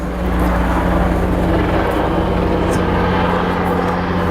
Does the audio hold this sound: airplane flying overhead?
yes